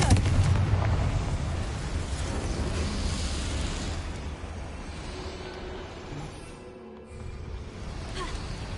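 Confringo blasting spell explosion in the Hogwarts Legacy video game, a loud booming burst at the start that rolls into a long rumbling, crackling roar and slowly fades.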